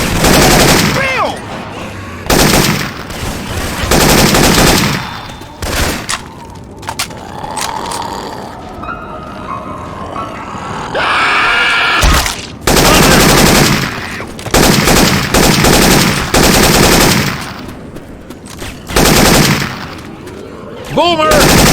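Syphon Filter weapon sound effects in Left 4 Dead 2, with loud, close bursts of rapid automatic fire and single shots alternating with mechanical reload clicks. Characters shout between the volleys.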